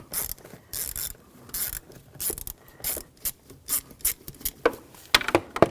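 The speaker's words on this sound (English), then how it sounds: "And loosen this worm clamp up, use an 8mm socket." An 8mm socket on a ratchet loosens a worm clamp under the hood of a 2013-2019 Ford Escape 2.0L, giving bursts of close, rapid clicking with short pauses between strokes.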